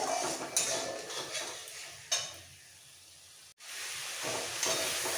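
Katla fish masala fries in a pan with white mustard paste, a soft sizzle broken by spatula scrapes and light clinks against the pan, close by, dipping quieter midway before the frying rises again.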